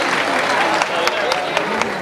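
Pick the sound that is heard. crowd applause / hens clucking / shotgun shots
crowd applause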